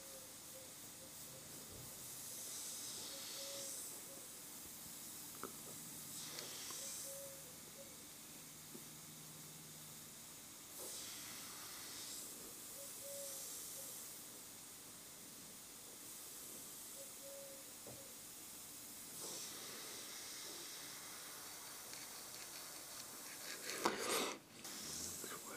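An airbrush sprays paint in fine detail strokes on a miniature portrait, giving a soft, steady hiss that rises and falls in repeated short bursts over a faint background, with no talking.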